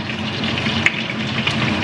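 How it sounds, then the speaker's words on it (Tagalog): Milkfish (bangus) fries in a hot pan, giving a steady, close sizzle that runs unbroken throughout, with a couple of brief louder pops of spattering oil. "Yung parang bangus style na prito."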